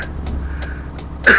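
A single sharp, loud cough bursts out close at the end, after a stretch of quiet room tone with a few faint soft clicks.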